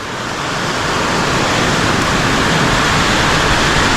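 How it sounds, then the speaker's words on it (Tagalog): Heavy rain pours down steadily in a dense, loud, unbroken roar that builds slightly at the start, with no voices over it. "Andiyan ang malakas na ulan, pre!"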